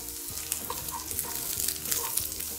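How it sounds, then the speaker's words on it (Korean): Onions stir-fry in a pan with garlic, a close, moderately quiet sizzle with scraping stirs and small crackling bursts running continuously, no voices. "이제 어느 정도 이렇게 볶았다 싶으면 양파를 볶아볼게"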